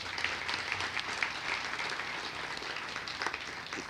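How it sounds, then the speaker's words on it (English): A hall audience at a behavioral-health awareness event claps steadily and fairly loudly, a dense even patter of many hands with no voices over it. "So give us a big round of applause for why we're here today."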